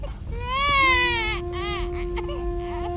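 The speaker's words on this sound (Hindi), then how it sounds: "मुझे छोटे बच्चे की रोने की आवाज सुनाई दे रही है।" A small baby cries in a home courtyard in a magical suspense story, a loud sustained wailing cry with rising harmonics, then quieter continued crying and whimpering.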